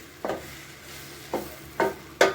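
Bread frying with Schezwan sauce in a pan, stirred in a few separate strokes that each bring a short scraping sizzle over a quiet background.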